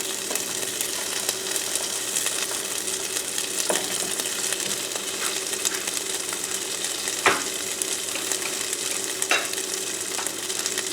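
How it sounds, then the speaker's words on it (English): Halved grape tomatoes sizzling in a skillet with shrimp and zucchini noodles, a steady close crackle of frying with occasional light clinks and scrapes from stirring. "I'm going to add my grape tomatoes that I sliced in half."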